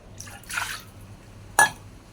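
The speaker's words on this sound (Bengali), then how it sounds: "মধু গায়ে ভালো করে দিয়ে দিলাম আবার জল ফেলে দিলাম" Water poured over a small Gopal idol during its bath, a brief soft splash and trickle followed by a sharper single drip-like splash, close and quiet, with no voices.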